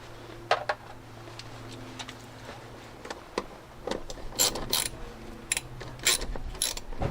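A ratchet clicks in bursts while a nut is tightened during the fitting of a wiper motor on a Land Rover Discovery 2; the clicking is close and fairly quiet, with some light metallic handling and no talking.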